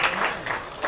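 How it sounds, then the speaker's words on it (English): A room full of spectators at a ten-ball billiards match bursting into applause after the winning shot, a brief, close, busy spatter of clapping with small swells. "as we hear the crowd erupt"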